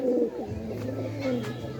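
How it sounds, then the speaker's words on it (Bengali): Pigeons coo in low, throaty, rolling calls close by, and someone talks over them. "এই যে এগুলো আমার আগের বাসার আমার আগের কবুতর।"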